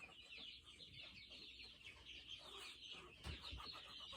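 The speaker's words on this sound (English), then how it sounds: "those chickens are getting pretty noisy over there" Chickens cluck steadily at a middle distance on a farm, a continuous chattering of overlapping calls with a louder burst near the end.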